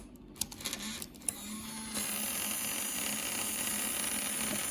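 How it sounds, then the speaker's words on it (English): A drone's rotors, switched on by a trigger sensor on its exposed live motherboard, start a faint, steady mechanical whir after a few soft clicks and rattles; the whir continues evenly to the end. "So that seems to be the trigger sensor, which activates the rotors."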